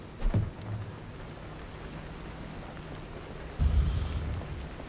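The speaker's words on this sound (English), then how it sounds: "Oh, I hear some thunder." Distant thunder rolls in the video game Pacific Drive, two low rumbling swells over a steady rain-like hiss, the second longer and heavier than the first, with no talk.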